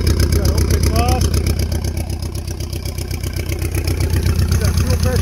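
A loud engine idling through an open exhaust with a rough, rapid pulsing exhaust beat, steady and close, with no talking.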